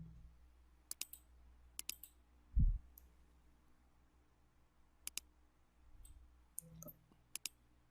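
A computer mouse clicks sharply in quick pairs at scattered intervals, close and crisp over a quiet room with faint low hum and an occasional soft thump, while someone works in Microsoft Word.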